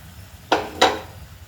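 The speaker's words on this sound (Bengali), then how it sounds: "এবার আমি ঢাকাটা সরিয়ে নেব।" A lid lifted off a pan of simmering spices while cooking paneer with jackfruit seeds, two quick metallic clanks close together, sharp and near against a quiet background.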